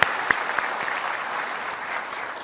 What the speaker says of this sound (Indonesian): mempersilakan tepuk tangan kepada kedua kandidat yang akan kita ajak diskusi malam hari ini